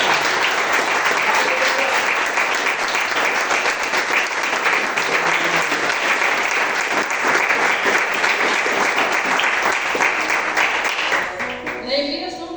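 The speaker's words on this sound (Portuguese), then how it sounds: "Vocês podem aplaudir o Senhor nessa noite?" A church congregation at an evening campaign service applauding: dense, loud, sustained clapping from a large crowd fills the room without a break, then fades near the end as a voice comes in.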